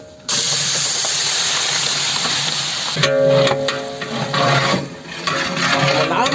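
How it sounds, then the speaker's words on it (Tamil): Biryani paste with cashews sizzles loudly in hot ghee, a steady close hiss and crackle that runs throughout, with scraping and stirring noises joining partway. "இது பச்சை வாடை போகிற அளவுக்கு நல்லா வதக்கணும் எண்ணெயிலேயே"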